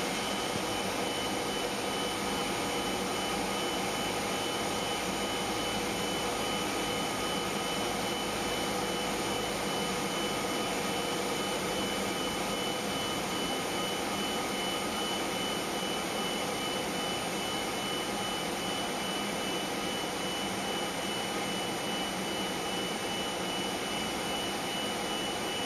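Steady, loud drone of a Cessna light aircraft's piston engine heard from inside the cabin on final approach to runway 26, a continuous broadband roar with no talk over it.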